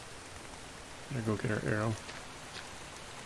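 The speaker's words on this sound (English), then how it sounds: "And it's raining again." Steady rain falls in the game The Infected, a broad even hiss running under the whole stretch while someone speaks briefly near the middle.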